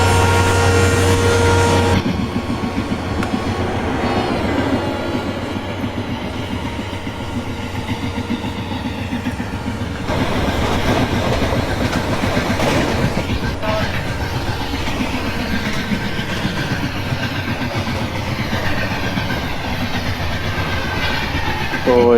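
A train hauled by a WDP4 diesel locomotive in Indian Train Simulator, running as a Duronto express, gives a steady, loud rolling rumble with wheel clatter throughout, and a voice talks over it in places.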